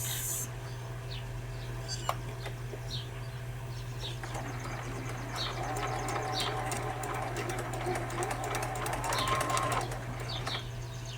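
Sewing machine stitching quilt pieces together at a 1.2 stitch length: a soft, steady mechanical patter over a constant low electrical hum, close and moderate, with a sharp click early on and no talking.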